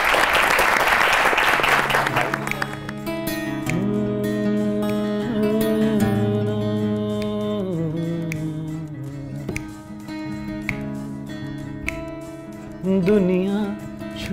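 Audience clapping for a band on a live show, a burst of applause at the start that gives way to sustained tonal music with singing, with a brief clap flurry later.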